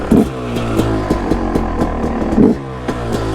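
A 2009 KTM 250 EXC dirt bike engine fires up on choke on a very cold day, very loud and close, with a rapid rattling two-stroke beat and sharp revving blips recurring through the clip.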